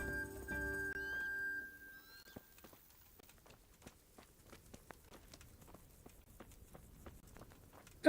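Horse hooves clop at a slow walking pace in the medieval video game Kingdom Come: Deliverance, soft and fairly close, following a brief musical chime at the start.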